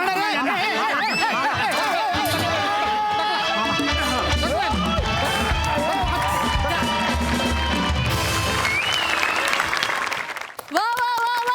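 A studio audience at a Marathi comedy show claps after a sketch. Loud, continuous applause holds for around ten seconds amid crowd noise and scattered voices, then cuts off sharply.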